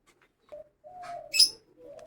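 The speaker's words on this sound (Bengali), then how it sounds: "ছাদে গিয়ে আপনাদেরকে দেখায় পায়রাগুলো" Pigeons on a house rooftop give a few soft, close coos and brief chirpy calls in an otherwise quiet moment, with one brighter burst in the middle.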